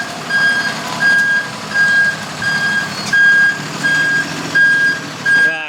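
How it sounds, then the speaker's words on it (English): A skip lorry reverses to drop off an 8-yard skip at a scrapyard, its loud, near reversing alarm beeping in an even, repeating rhythm of about eight beeps over a rumbling truck engine, with no talk. "just heard the reversing sirens"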